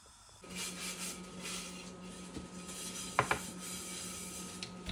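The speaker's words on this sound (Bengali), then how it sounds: "বেকিং সোডাটা দেওয়ার পর একটু নাড়াচাড়া করে নেব" Jalebi batter is stirred in a bowl after baking soda goes in, giving soft, close scraping and a couple of light clinks of a spoon against the bowl under a faint background hum.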